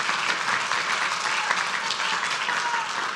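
Council meeting audience applauding student poster winners, a brief dense round of clapping, steady and fairly loud, with no talk over it.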